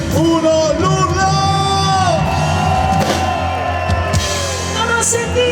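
A concert audience in Piazza Manzoni, Jesolo, roars and screams on cue at a summer 2022 pop show, a loud, dense sustained wall of shouting voices and whoops, with the performer's voice and music mixed in throughout.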